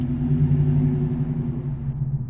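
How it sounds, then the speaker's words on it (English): A V6 Dodge Charger running without catalytic converters or muffler, a deep, loud exhaust drone with a strong low rumble that idles steadily before easing off slightly near the end. "that is a V6 Charger without its cats or muffler"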